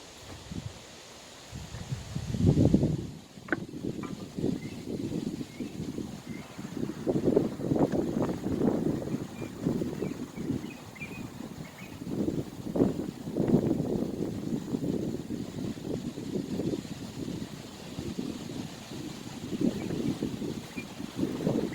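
Strong gusts of wind roar outdoors ahead of an approaching tropical storm, buffeting the microphone in repeated surging waves, loud and close throughout, with no one speaking.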